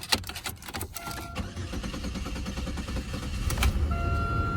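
A Mopar car's starter cranks and the engine struggles to turn over at an insurance auction lot, a close mechanical whirring that grows slightly louder toward the end.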